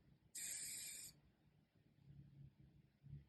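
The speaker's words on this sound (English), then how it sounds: "Finisher, I'm going to use hairspray." A single short burst of aerosol hairspray, close and loud for under a second, is sprayed onto flipped-over hair during beach-wave styling, followed by quiet handling sounds.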